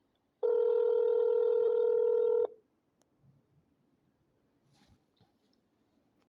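A telephone call is placed and rings through toward voicemail: a steady loud tone holds for about two seconds, then stops, leaving faint clicks and low rustling.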